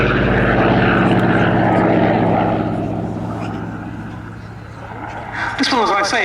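A Corsair fighter in Fleet Air Arm colours flies past, its propeller engine giving a loud, sustained drone that fades slightly midway and then swells again, with a voice talking over it.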